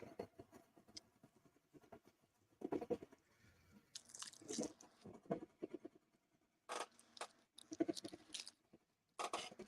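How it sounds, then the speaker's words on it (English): Nutty bar being crunched while eaten close to the mic, irregular crisp bites and chewing bursts with quiet gaps between, no talking. "Sorry if you guys hear crunching."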